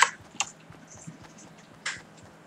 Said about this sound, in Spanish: Es buenísimo el ruido del teclado.